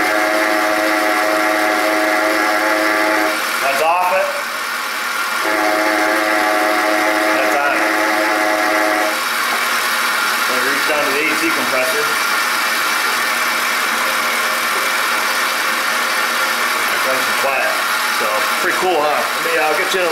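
A car engine idles close by with a steady, loud drone and a whining, rattling noise from a worn belt tensioner idler pulley. Someone speaks now and then over the running engine.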